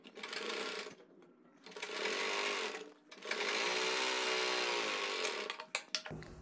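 A home sewing machine stitches a palazzo seam in bursts: a short run, a pause, then two longer steady runs, close and clear, ending with a few soft handling knocks.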